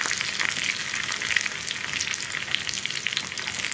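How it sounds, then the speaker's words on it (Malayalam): Onions and a sprig of curry leaves fry and hiss steadily in a pan as they are stirred, a close, continuous bright sizzle with no talking. "ഒരു തണ്ട് കറിവേപ്പില ഇത്രയും ചേർത്ത് നന്നായിട്ട് ഇളക്കി ഉള്ളിയുടെ കളറൊന്ന് മാറി വരുന്നത് വരെ ഇളക്കി കൊടുക്കുക."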